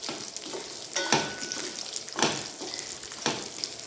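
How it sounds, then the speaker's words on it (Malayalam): Tamarind mixture for puli sadam bubbling and sizzling in a pan, a soft continuous sizzle broken by several periodic louder stirring or bubbling bursts, close and fairly quiet with no voices. "അപ്പോൾ ആ കൂട്ടത്തിൽ തന്നെ നമ്മുടെ പുളി തിളച്ച് വരുന്നുണ്ട്"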